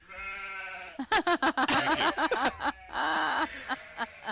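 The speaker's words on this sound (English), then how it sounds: "Is that a demon sheep? It's sheep." Sheep bleat repeatedly and loudly nearby, a rapid run of harsh, wavering cries with brief pauses, alone without talk.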